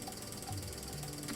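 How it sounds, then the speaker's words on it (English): A PLC output relay clicks rapidly at a 50 millisecond flasher rate, a faint, fast, even ticking chatter heard alone at low level. "What you hear now is the 50 millisecond flasher rate from this output."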